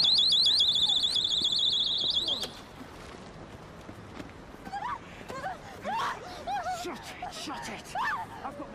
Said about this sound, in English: What's this? It's me rape alarm!